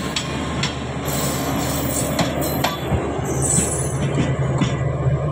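The Jaffar Express passenger train, pulling old unpainted coaches, departs toward Lahore, Rohri and Quetta with loud rolling clatter, rhythmic wheel clicks over rail joints and occasional sharp squeals, close by and without talk.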